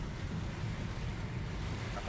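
Strong storm wind roars steadily, buffeting the microphone with a dense, rumbling low roar that stays loud and unbroken throughout, with light rain in the air.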